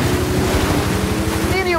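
A Toyota Tundra TRD Pro in Forza Horizon 5 ploughs into water, a steady loud rush of splashing and churning with engine drone underneath, rising into a whine near the end.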